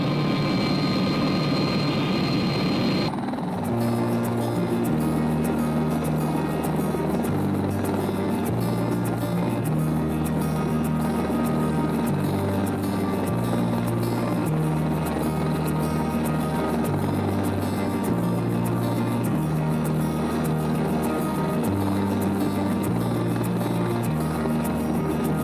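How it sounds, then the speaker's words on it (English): An Airbus H120 helicopter with a 500 shaft horsepower jet engine drones loud and steady, a continuous turbine whine over a pulsing low rotor thump that sets in after a brief opening and holds to the end. "It's an Airbus H120, 5 passengers, driven by a 500 shaft horsepower jet engine."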